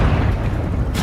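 A grenade blast in a video game battle, a dense low rumbling boom that fills the whole moment loudly, with a brief brighter burst at the very end.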